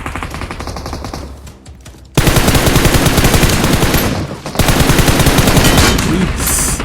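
Rapid automatic gunfire from a PUBG Mobile firefight, a quieter stretch giving way at about two seconds to loud, dense, sustained bursts that pause briefly and then resume just as heavily.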